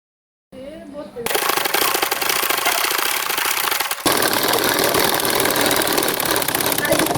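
A domestic sewing machine stitching a dress runs with a loud, dense, rapid mechanical chatter that starts after a short pause, dips briefly midway, then resumes steadily until the end; no talking.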